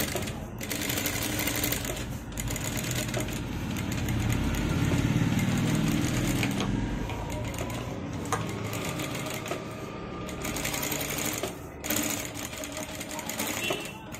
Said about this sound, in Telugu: ఇప్పుడు వెనుక వైపు నుంచి ఇలా స్టిచ్ చేసుకోండి.